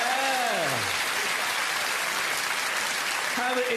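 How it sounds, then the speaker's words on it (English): A comedy show audience breaks into steady, dense applause that fills the whole stretch, with a voice briefly heard at the start and again at the end. "Round of applause, team leader."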